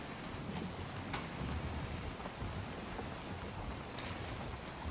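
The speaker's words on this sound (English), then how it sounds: "I'm seeing rain, light rain" Light rain in the video game Valheim falls near the shore as a soft, steady hiss of drops with a faint low rumble beneath, even and unbroken.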